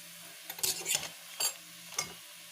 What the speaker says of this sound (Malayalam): 2ആയിട്ട് മുറിച്ചിട്ട് വറ്റൽമുളക് ചേർത്തിട്ടുണ്ട്. ഇനി നല്ലപോലെ മൂക്കട്ടെ.